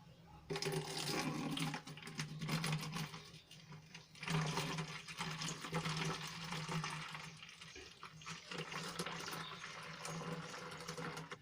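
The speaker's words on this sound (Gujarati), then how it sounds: "તો આને હું હવે બોટલમાં ભરી લઈશ" Homemade dishwashing liquid poured into a bottle, a steady faint gurgling stream of liquid running for several seconds with small pauses, heard alone without talk.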